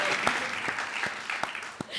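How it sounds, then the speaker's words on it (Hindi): Studio audience clapping during a comedy circus act on stage, a moderate spread of applause with a few sharper individual claps standing out, heard alone without speech. "ताली बजाओ यार, तब चलेगी ये"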